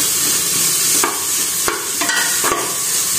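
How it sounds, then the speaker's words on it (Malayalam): Sliced onions dropped into a hot pan give a loud, steady sizzle, broken by a few sharp scrapes and taps close by. "ഈ ഉള്ളിയാണ് നമ്മൾ ഇങ്ങനെ ചൂടായിട്ട് ഇങ്ങനെ ഇടാം"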